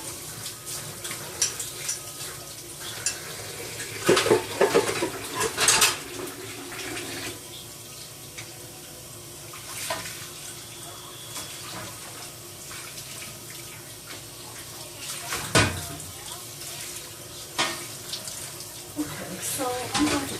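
Tap water runs into a kitchen sink during dishwashing, a steady splashing stream broken by clatters of dishes and louder gushes at intervals.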